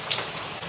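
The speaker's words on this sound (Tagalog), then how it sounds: "Hinay-hinay ulan na rin naman ng katugnaw" Steady rain falling on a chilly morning in Malaysia, a soft continuous wash of patter with one brief brighter drip near the start, fairly close and without voices.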